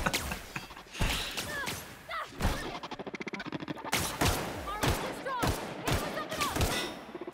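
Repeated bursts of gunfire from guns in The Outer Worlds sci-fi shooter game, sharp shots and rapid volleys spread across the scene, loud and close, with voices talking over them.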